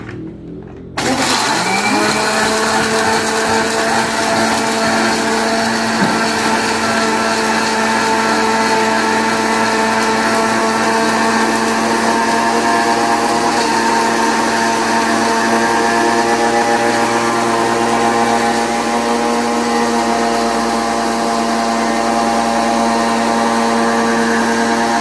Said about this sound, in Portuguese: vamos bater isso no liquidificador.